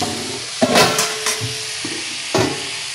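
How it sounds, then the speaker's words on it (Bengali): Mixed vegetables for a vegetarian dish, salted, fry in a pan while a spatula stirs them, giving a few sharp scraping strokes over a soft sizzle, close and fairly loud, with no talking. "একটু ভাজা ভাজা করে নেব।"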